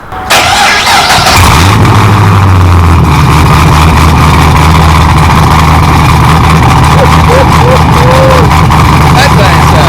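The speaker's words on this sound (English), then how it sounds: "get ready to do a cold start up on the Camaro" A 650-horsepower Chevrolet Camaro SS street car fires up from cold, a sharp starter crank giving way to a loud, deep, steady idle that rumbles on close by for the whole stretch.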